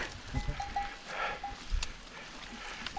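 Cows moo at a distance on open cliffside terrain, a couple of low calls rising over outdoor wind and rustle, fairly faint with no talking.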